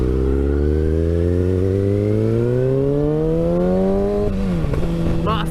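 A sportsbike engine, loud and close, climbs steadily in pitch as it revs through a gear, then dips sharply at the shift before pulling again, with its buzzing tone filling the whole stretch.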